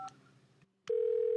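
A telephone number is dialed: a quick tone burst, a short pause, then another key press followed by a steady, loud dial tone that holds to the end, with no voices.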